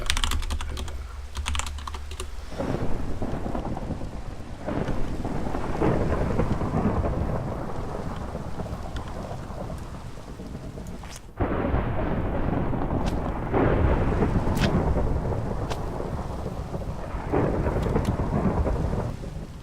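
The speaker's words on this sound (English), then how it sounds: "that explains all the excessive amounts of lightning happening" A Minecraft thunderstorm rolls on with steady rain and repeated cracks and rumbles of thunder, while computer keys clatter close and continuously on top.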